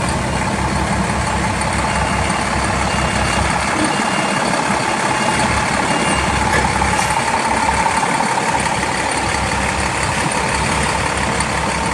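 A 2003 Pierce fire engine with about 90,000 miles runs steadily nearby, giving a continuous heavy diesel rumble with a broad, noisy hiss that stays at an even level for the whole stretch, with no voices.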